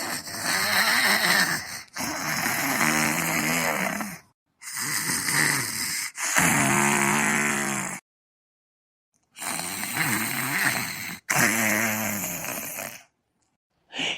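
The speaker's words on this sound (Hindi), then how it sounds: "यहाँ हमारे दिल रुबा खर्राटा मारे ही" A cartoon snoring effect in an Awadhi comedy animation: loud, drawn-out rasping snores come in repeated bursts, each separated by short stretches of silence.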